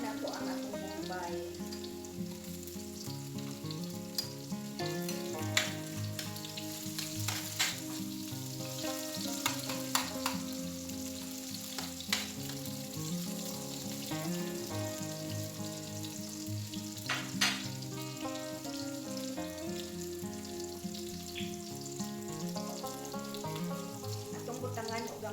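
Onion frying in a pan for chicken afritada, a loud, steady sizzle with crackling pops and occasional stirring clatter, close-up over a low hum and faint background music.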